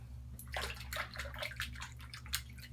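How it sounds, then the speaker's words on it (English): Tap water runs and splashes in uneven spurts as hands are washed at a sink during a wet shave, fairly quiet and close with no voices. "Gonna wash my hands."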